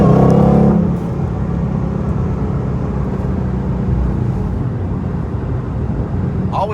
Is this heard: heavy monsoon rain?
no